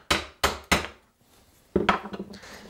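Wood chisel chopping down into timber while hand-cutting a dovetail, three sharp loud mallet strikes in quick succession, a pause, then a burst of several lighter rapid taps, close and without talk.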